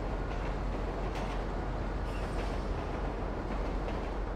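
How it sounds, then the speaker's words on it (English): Low steady rumble of a train approaching in GTA 5, heard near a bus, a dense constant roar with no distinct clacks and no speech. "I hear the train coming."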